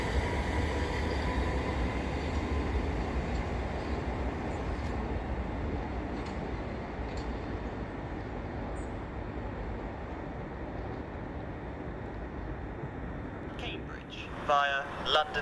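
Southern Railway electric train 377124 pulls out of Gatwick Airport station, a steady broadband rumble of wheels and motors holding level throughout, with a few brief higher clicks and a short burst of noise near the end.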